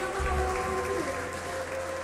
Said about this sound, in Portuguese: Vamos aplaudir o Senhor Jesus esta noite.